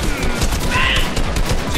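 Loud, rapid gunfire bursts from a shotgun in Fortnite, several blasts in quick succession close and sharp, with game sounds in the background.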